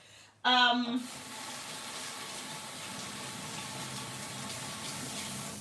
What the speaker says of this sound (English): let me just wash my hands really quick